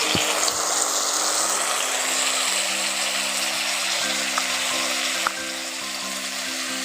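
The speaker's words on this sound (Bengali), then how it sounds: "এবার দিয়ে দিচ্ছি টমেটোর বাটা টমেটোর বাটাটা ওর সঙ্গে দিয়ে একটু ভালো করে কষে নেবো" Tomato paste sautéing in a pan with fried onion, garlic and ginger, a steady soft sizzle with a low hum underneath, dropping slightly quieter near the end.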